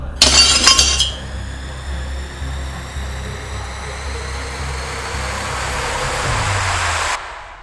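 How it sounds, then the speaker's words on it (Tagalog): A glass bottle of oil is thrown down and shatters on the ground, one loud sharp crash with bright tinkling shards at the start, followed by a long hissing, rumbling wash that fades out near the end. "Sagot ni Maria bago niya ibato ang bote ng langis sa lupa."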